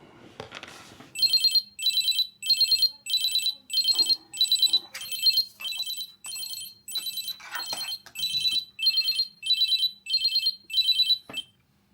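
A Native Union Bluetooth wallet tracker rings indoors, giving a steady run of about sixteen short, evenly spaced, high-pitched electronic chirp bursts. It plays at moderate loudness with faint background noise between the bursts and no voices.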